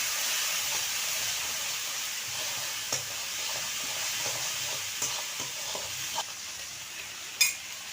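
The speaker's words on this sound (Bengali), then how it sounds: "আমার মশলাটা ভালো করে কষানো হয়ে গেছে" Cumin paste, turmeric and salt frying in a pan give a steady bright sizzle and hiss throughout, with occasional scraping stirs and one sharp clink near the end, and no voices.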